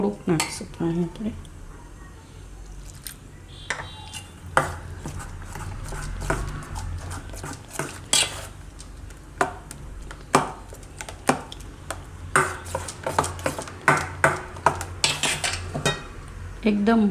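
Bateta vada batter of flour and a little water whisked in a metal bowl, with rapid close clinking and tapping strokes that grow more rhythmic toward the end, no talking.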